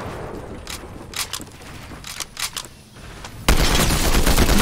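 Shotgun blasts in the video game Fortnite: a few sharp, punchy shots spaced across the moment, followed by a sudden loud sustained burst of noise.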